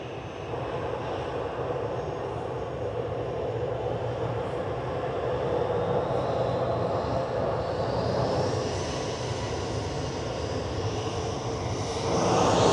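Airplane engines at Manchester Airport give a loud, continuous broadband roar with a rising whine toward the end, as a jet nears or spools up.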